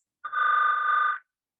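One steady electronic ring of about a second from a CaptionCall captioning phone set to ringtone pitch 3, clear and alone with silence either side.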